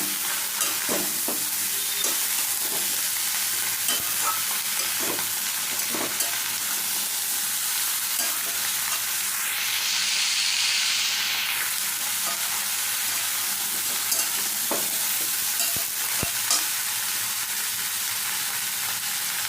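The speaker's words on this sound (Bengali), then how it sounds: "এবার ভালো করে পেঁয়াজের সাথে মশলার সাথে ভালো করে ভেজে নেব সবজিগুলো" Mixed vegetables fry with onion and spices in a pan, giving a continuous close sizzle broken by occasional stirring scrapes and clicks, with one brief whistling tone partway through and no one speaking.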